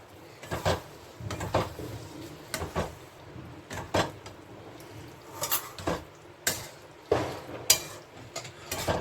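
Boiled chickpeas tipped into a pan while cooking chana masala, with repeated clanks and scrapes of a spoon against metal cookware, irregular and close.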